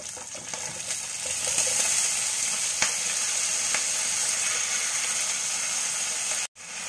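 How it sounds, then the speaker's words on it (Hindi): Potatoes dropped into hot oil with crackled cumin seeds give a loud, steady, close sizzle that holds evenly for several seconds, with a faint clink near the start and an abrupt cutoff at the end. "जीरा हमारा जो है वो तड़क चुका है। अब हम इसमें आलू डालेंगे।"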